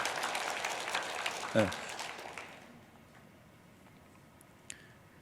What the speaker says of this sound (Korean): 우리 권사님들 다시 한번 박수 쳐줘